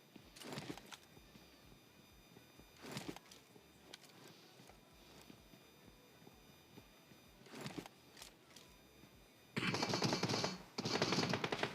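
Automatic gunfire in PUBG Mobile, several short sharp bursts spaced across the stretch, ending in two longer sustained volleys, with quiet game ambience and footsteps between them.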